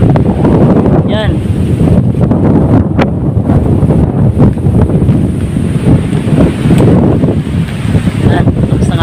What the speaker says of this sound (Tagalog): Sobrang lakas, bagyo yung hangin.